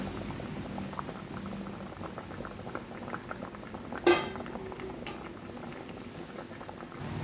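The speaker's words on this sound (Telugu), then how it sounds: "ఇంకాస్త ఉడకాలండి" A pot of pond fish curry (chepala pulusu) bubbles at a steady simmer, with a continuous low gurgle and a single sharp clink of metal on the pot partway through.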